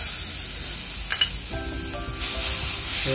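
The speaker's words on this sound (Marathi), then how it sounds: "आता आलं लसूण आणि मिरचीची पेस्ट करून घेतली आहे ना ती घालूया।" Ginger-garlic-chili paste hits hot oil in a kadhai and sizzles hard, a loud, dense hiss that swells and holds close by for a few seconds.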